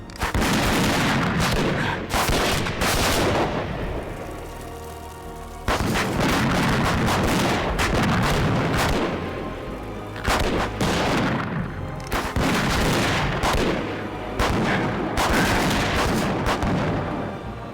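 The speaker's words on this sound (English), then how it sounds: "Shoot them! Shoot them all!" Bursts of period gunfire in a historical fantasy battle, loud volleys and rapid shots crackling in waves with brief lulls between, sustained across the scene without speech.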